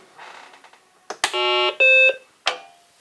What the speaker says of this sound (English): Still get the beep.